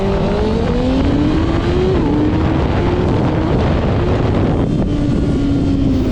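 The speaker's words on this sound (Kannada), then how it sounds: "ಸ್ವಲ್ಪ ಥ್ರಾಟಲ್ ಜಾಸ್ತಿ ಕೊಟ್ಬಿಟ್ಟು ಸ್ಟಾರ್ಟ್ ಮಾಡ್ತಾಯಿದ್ದೀನಿ" A 2024 Kawasaki ZX6R motorcycle launching hard with quickshifter and traction control off, its engine loud and close as it revs up through quick successive shifts, each step marked by a brief dip before climbing again.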